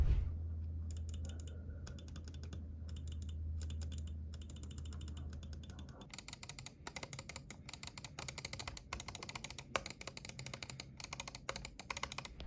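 Rapid clicking of a Beast X Max gaming mouse with Omron optical switches: dense, crisp ticks repeat steadily and close up. A low hum runs under the first half, and the clicks continue alone for the remainder.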